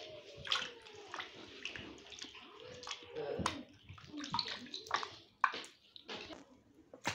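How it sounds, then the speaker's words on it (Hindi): Raw chicken being washed in a bowl of water, with sloshing, splashing and dripping sounds running throughout at close range, interrupted by a few louder splashes, while a person talks over it. "ये देखिए चिकन कितनी अच्छी तरह से ये साफ़ हो गया, बिल्कुल वॉश हो गया।"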